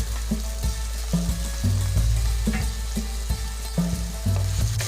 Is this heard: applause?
no